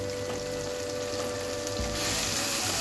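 Pav bhaji masala, about two spoonfuls of spice, frying in a pan with a steady close sizzle that grows brighter near the end; no one speaks.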